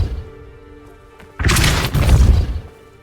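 A Depulso force spell striking in the Hogwarts Legacy video game: after a quiet, humming lead-in, a sudden heavy boom with a crashing burst, followed by a second rumbling impact that tails off.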